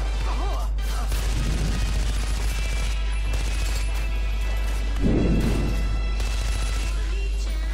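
Automatic weapon fire in the video game Far Cry 4 comes in rapid bursts with short pauses between them, loud and close over a constant background of game sound.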